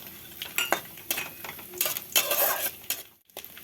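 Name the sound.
cashews and raisins being fried and stirred in a pan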